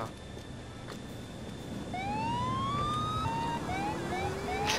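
Quiet game ambience from GTA IV gives way to a police car siren that starts partway through and keeps wailing in rising sweeps, growing louder and close, with no voices.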